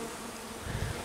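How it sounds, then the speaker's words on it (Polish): Bees buzz in a steady, dense drone close by, a swarm humming continuously with a slight swell in low tone. "No, tam się pszczoły już nalatują."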